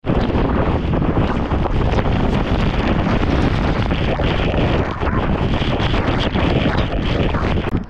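Heavy monsoon water pounds down at Kalu waterfall on a Malshej ghat trek in Maharashtra, a loud, unbroken roar buffeted by wind across the whole stretch, with no voices.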